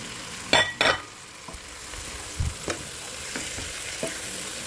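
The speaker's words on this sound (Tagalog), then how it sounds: "Lagyan na natin ang ating pork. Yan, gigisa na rin natin." Pork sautéing in a pan for Filipino sinigang, a steady sizzle with sharp scraping stirs and spatula knocks at intervals, close and clear without talk.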